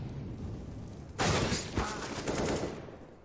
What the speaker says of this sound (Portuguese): olha só a troca de tiros acontecendo por aqui